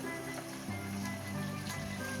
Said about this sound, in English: お鍋に水を入れています。